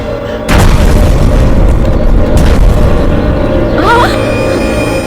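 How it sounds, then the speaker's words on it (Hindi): A deep, loud boom of an explosion in an action movie blasts in after a brief quiet start and holds as a heavy roaring rumble, with a second surge partway through and a faint voice-like wail near the end. "ये कैसा धमाका?"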